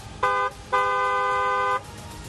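A car horn sounds twice, first a short honk, then a longer sustained blast, loud and close.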